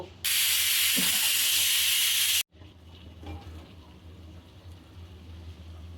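A pressure cooker holding lentils for Bangladeshi haleem vents steam in a loud, sharp hiss for about two seconds and then cuts off abruptly, leaving low kitchen background noise.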